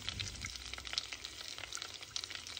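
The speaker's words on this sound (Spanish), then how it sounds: "Lo revolvemos para que el aceite coja el sabor de las especias." Oil flavoured with spices sizzles faintly in a pan while being stirred, a soft steady crackle with scattered small pops and a few light scrapes, no voices.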